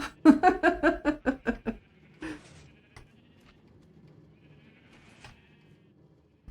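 Video game sheep giving a rapid series of about ten loud bleats in quick rhythm, then falling to faint scattered noises and near quiet.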